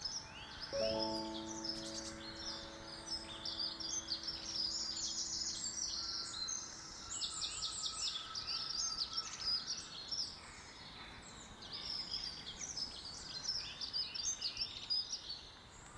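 Birds chirp and sing steadily around a plastic bottle feeder in a garden, with many overlapping small calls and tweets continuing throughout at moderate distance.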